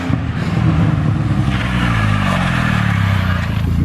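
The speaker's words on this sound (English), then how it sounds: "I shouldn't have cut the exhaust off it." Car engine with its exhaust cut off, running loud and raw, a steady droning roar with rough harmonic growl held close to the microphone throughout, no talk.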